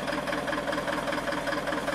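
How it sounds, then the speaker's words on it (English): A bulldozer engine idling just after start-up on a logging road, likely with leaking exhaust manifold gaskets; a loud, steady, rough mechanical drone with a knocking pulse, close by and without speech. "I just fired the dozer up."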